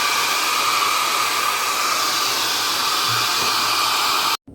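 A hair dryer blows steadily and loudly on a watercolor painting of fishing boats, a close, constant whoosh that stops abruptly near the end, with no speech.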